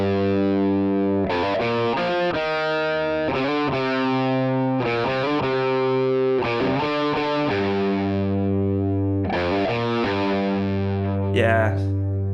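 Heavily distorted electric guitar through a Vox-style amp with Greenback C30 speakers, sustained chords ringing out with short rhythmic changes between them, loud and continuous.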